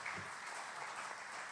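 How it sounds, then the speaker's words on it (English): Audience applause at a variety show, a steady wash of clapping from a crowd, sustained and fairly loud for a brief moment with no voices over it. "Round of applause for Steve Fletcher again, why not?"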